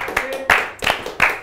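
Several sharp claps ring out in an uneven rhythm on a talk show, close and fairly loud, with background voices faintly blending in.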